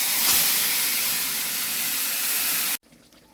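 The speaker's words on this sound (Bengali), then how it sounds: "মাংসটা ম্যারিনেট করে রেখেছিলাম টক দই আর একটুখানি আদা রসুনের পেস্ট দিয়ে সাদা তেল দিয়ে। এবার এটা এখানে দিয়ে দিচ্ছি।" Meat marinated in sour yogurt and ginger-garlic paste dropped into hot oil for biryani, releasing a loud, steady broadband hiss that cuts off abruptly near the end.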